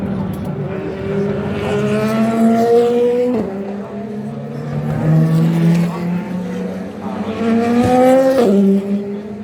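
Race cars roar past at the 2023 24 Hours of Le Mans, loud and close, engine notes climbing and then dropping sharply as each one passes, with a voice faintly audible underneath.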